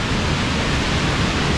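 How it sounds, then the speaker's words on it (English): A deep waterfall roars in a steady, dense broadband rush, loud and constant with no pauses or voices over it. "Here's the waterfall. Oh wow, that's a deep fall."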